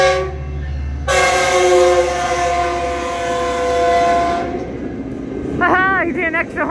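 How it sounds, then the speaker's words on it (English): A Metrolink train passes close by and sounds its horn in a long, loud sustained chord, rail noise rumbling beneath, followed by a few shorter honks as it recedes; a person reacts in the background. "Haha, you did an extra honk for me."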